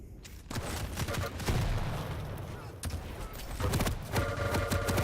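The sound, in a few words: rocket launcher and lightning gun fire in Quake video game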